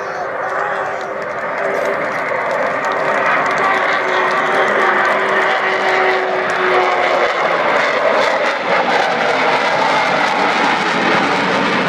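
The Avro Vulcan XH558 bomber makes its final flypast at an air show, a loud, continuous jet roar with a steady drone that slowly shifts in pitch as it passes overhead, sustained throughout, with a voice faintly beneath.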